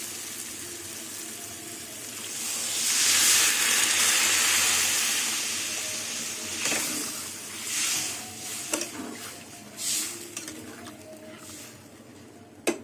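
Water poured into a sizzling duck egg and potato curry sends up a loud, close hiss of steam that fades over a few seconds into softer bubbling and scattered pops.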